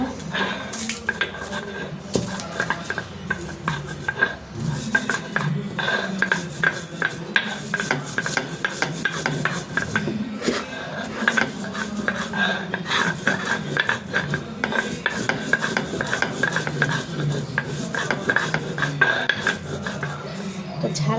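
Ingredients for a hilsa fish tail bharta are cut by hand, giving a fast, steady run of close, crisp knife-on-board taps and scrapes that continues without a break.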